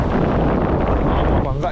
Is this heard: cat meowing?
no